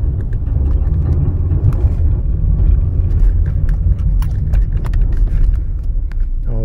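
A Volvo S60 or XC90 from 2001–2009 pulls away gently on an icy surface, with a low engine rumble rising slightly and some light rattling clicks over it.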